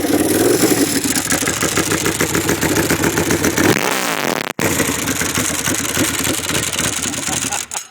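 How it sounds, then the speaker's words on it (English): NCR Leggera special motorcycle engine running loud and close by the exhaust, a steady throbbing idle with a brief rev and rising pitch midway, one short cutout, then settling back to idle. "Can you start the bike up for us so we can hear how?"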